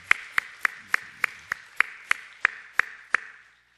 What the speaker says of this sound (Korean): 뜨거운 박수로 한번 격려하겠습니다